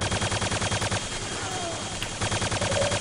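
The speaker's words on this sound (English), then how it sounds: "I'm gonna use my hyper blaster. Just unleash hell as soon as I get upstairs." Rapid hyperblaster fire from Quake 2 rattles in a fast, steady stream of loud, close energy shots that pulse evenly throughout, with a brief thinning in the middle before the bursts resume.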